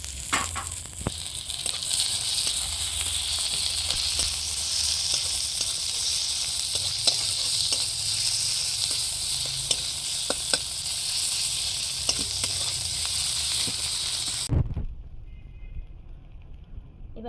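Onion, garlic, ginger and chili fry in a pan while making potato chops, giving a loud, steady sizzle that runs without a break and stops abruptly near the end.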